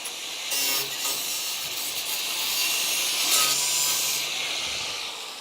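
Power tool cutting rusty metal on an old Charger car body, a rasping grinding saw sound running in uneven strokes with brief pauses, close and fairly loud.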